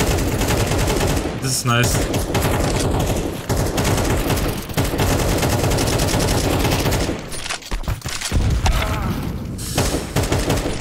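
Sustained automatic rifle fire from Counter-Strike 2 rattles loudly and nearly nonstop, with brief breaks and a few short pauses between bursts, while a voice talks over it.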